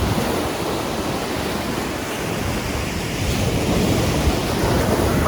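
Ocean waves break and wash onto the beach at Destin, Florida: a continuous, loud roar of surf with wind buffeting the microphone and no voices.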